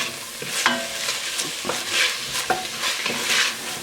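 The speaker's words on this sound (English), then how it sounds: "we're going to cook these up until those onions get nice and translucent and soft" Onions, jalapeños and serrano chilies sizzle in a pan while a utensil stirs and scrapes them, with several distinct scraping strokes over a steady frying hiss.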